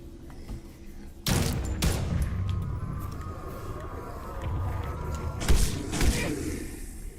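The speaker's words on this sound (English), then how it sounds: "apparently shooting him in the back only took 2 bullets" Two loud gunshot bursts from the horror game Enigma of Fear, the first pair of sharp reports followed by a lingering rumble, then another pair of shots a few seconds later.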